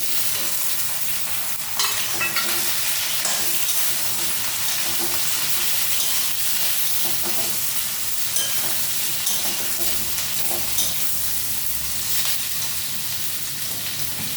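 Eggplant pieces fry in oil in a pan, the oil already used for frying egg: a continuous bright sizzle with scattered stirring scrapes and taps, steady and close, with no voices.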